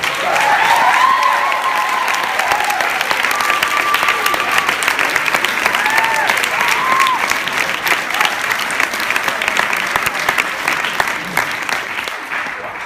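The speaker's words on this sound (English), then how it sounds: "I'd love for y'all to give him a round of applause for all he's done." Audience clapping at a senior night gathering, a dense sustained round of applause from a crowd that holds steady and slowly fades, with a few whoops and cheers rising over it.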